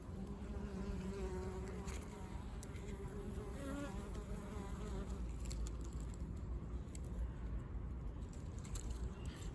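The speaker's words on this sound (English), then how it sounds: "A little bee with loads of pollen." Honeybees buzzing densely and continuously at the entrance of a hive that sits on the ground with a disintegrated base, a steady close hum with individual bees droning past.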